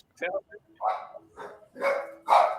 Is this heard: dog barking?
yes